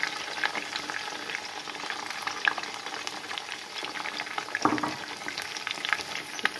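Ginger paste gets stirred into an onion, tomato and chilli masala frying in a pan for lamb chops, a steady close sizzle with scraping spoon strokes and occasional louder crackles.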